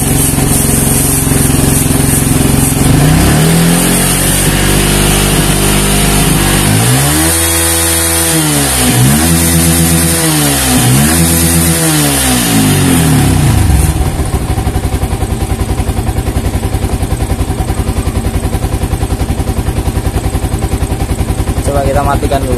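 Engine of an old Yamaha Vixion motorcycle with misfiring and a weak battery, revved by raising the throttle; loud close droning with rising and falling pulses in the middle, then settling back to a steady idle.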